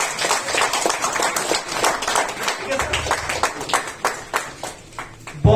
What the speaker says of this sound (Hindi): एक बार जोरदार ताली मेरे भी बजाएंगे।